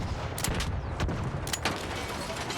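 Gunfire aimed at an ARC robot in the video game ARC Raiders: a few quick bursts of shots crack out over a constant rumbling game background, close and fairly loud.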